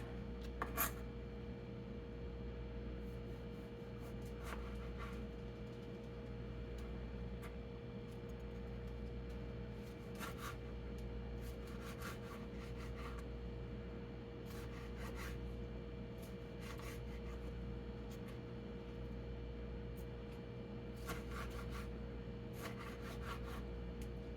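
Knife slicing and dicing fresh tomatoes on a cutting board in a home kitchen, giving repeated close, light chopping taps in short bursts over a steady low hum, with no talking.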